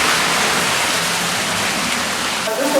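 Underground waterfall in the largest, colorful chamber of a tunnel beneath a Chicago suburb, a loud continuous broadband rush filling the space without pause.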